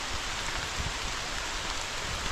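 Steady rain falls outdoors on a nature climbing and cardio outing, a dense, even patter with no breaks and no voices.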